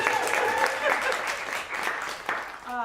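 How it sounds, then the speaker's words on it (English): An audience at an artist circle gathering applauds an artist, a dense, steady patter of clapping lasting a few seconds with scattered voices and cheers mixed in. "okay, yeah, you can clap."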